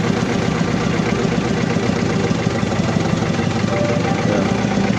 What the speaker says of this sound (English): Injector misfiring.